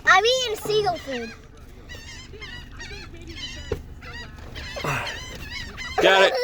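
Seagulls call in harsh, honking bursts during a feeding frenzy on Rockport Beach, loud and close, with scattered cries over a low background murmur.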